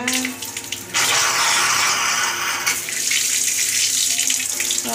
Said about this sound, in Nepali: अब म पानीहरु भर्छु